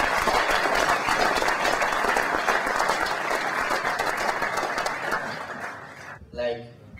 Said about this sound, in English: I will really ask to all of you to make a very big applause to all our riders